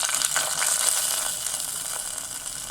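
Ghee-fried cashews are tipped into a pot of milk payasam with a bright, hissing sizzle that swells at first and then settles into a steady crackle, with no voices.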